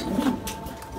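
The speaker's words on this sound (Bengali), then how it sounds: "আমি লফটে সব কবুতরদের খাবার দিয়ে দিচ্ছি, সব কবুতরই খাবার খাচ্ছে" Pigeons in a loft at feeding time let out a brief, soft, throaty coo nearby, a single short call.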